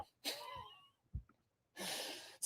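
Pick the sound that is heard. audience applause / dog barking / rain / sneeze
sneeze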